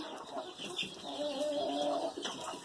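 Chickens clucking softly nearby, a run of low throaty murmurs with a few higher calls, fairly quiet.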